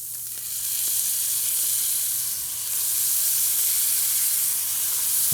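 Tomato sauce hitting a hot pan of browning ground beef, cooked from frozen, sets off a loud, close, steady sizzle and hiss that swells and holds with no talking.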